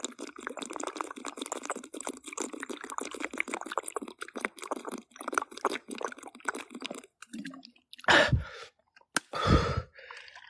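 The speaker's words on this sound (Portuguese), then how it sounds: "Parei pra beber água." A person pauses to drink water, with a long run of close gulping and swallowing sounds followed by a couple of louder breaths or sighs at the end.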